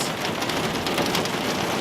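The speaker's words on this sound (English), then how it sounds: "It's raining harder. It's raining really hard." Heavy rain pouring onto a city street, a loud, dense, continuous hiss of drops with no pauses and no voices.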